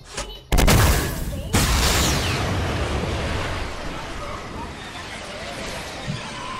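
Guided missile explosions in the Fortnite video game: one sudden loud boom followed by a second blast, then a long rumbling decay with faint background noise.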